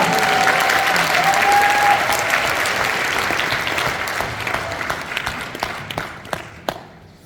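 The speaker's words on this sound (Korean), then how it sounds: "자, 여러분 박수 한번 쳐주세요." A seminar audience gives a sustained round of applause, a dense crowd clapping at first that gradually thins into scattered individual claps before fading out, with faint voices beneath.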